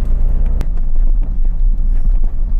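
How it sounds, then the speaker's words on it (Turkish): A car fitted with new NGK BKR6EIX iridium spark plugs drives along, giving a loud, steady low engine rumble and road noise with a sharp knock near the start. "Hadi bir sürüş yapalım da bakalım iridiumlar ne kadar fark ediyormuş"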